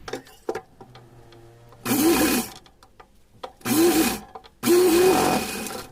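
A sewing machine stitches a seam on a small Laddu Gopal (Kanha ji) doll dress, running in three short whirring bursts with quiet gaps and faint handling noises between them.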